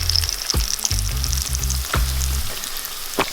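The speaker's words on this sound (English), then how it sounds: "Once you get to a sizzling hot heat, turn it down just before you put in your chicken." Steady, crackling sizzle of coconut-coated chicken frying in hot oil, loud and close, with a few clinks of a utensil against the pan.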